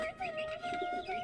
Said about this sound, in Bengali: কবুতর আয় পড়ছে মুরগির ঘরে